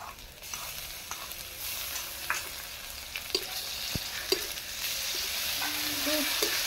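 Ginger garlic paste frying over browned onions in a pan, a steady close sizzle broken by occasional scrapes and taps of a spoon as it is stirred, with no talking.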